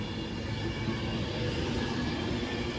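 An Avanti West Coast class 390 Pendolino, one of the few unrefurbished units, pulls away on a delayed service to Manchester Piccadilly, a steady rumbling rail noise of moderate loudness with no talk.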